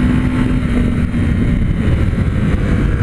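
A Honda Sahara 300 motorcycle accelerates on a test ride, its engine droning loud and close with a steady rising pull, wind noise mixed in, and no voices.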